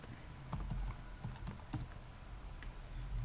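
Typing on a computer keyboard in a quiet room, a short run of soft, irregular key clicks at moderate level over a low background hum, no voices.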